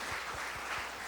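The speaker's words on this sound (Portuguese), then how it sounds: "Vamos aplaudir essa leitura." A church congregation applauds a reading at a Portuguese-language service, a steady wash of many hands clapping at a moderate level, with no talking.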